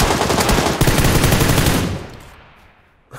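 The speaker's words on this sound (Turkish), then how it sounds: "Şu PUBG Lite'da en sevmediğim silah çıktı ya. M249 gerçekten hiç sevmiyorum." M249 machine gun in the video game PUBG Lite firing a loud, rapid sustained burst that cuts off and fades into a short tail.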